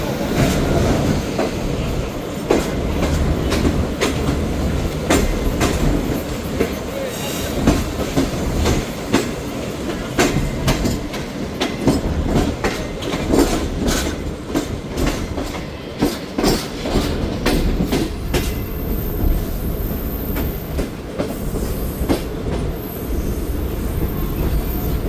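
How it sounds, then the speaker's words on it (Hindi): Pakistan Express passenger train rolling on rails toward Rahim Yar Khan station, a steady loud rumble with rhythmic wheel clatter and occasional squeal, continuous throughout with no talking. "रहीम यार खान पहुंच रही है हमारी ट्रेन"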